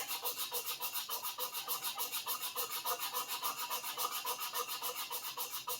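Abrasive paper rasps steadily back and forth over the blade of a Minamoto sujihiki knife under restoration, a close, quiet, regular scratching stroke repeating roughly every quarter second.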